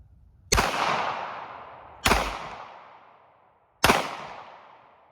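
Three loud, close pistol shots from a Smith & Wesson Airlight 380 firing range dynamic ammo at a cinder block wall, evenly spaced about a second and a half apart, each with a sharp crack and a ringing decay.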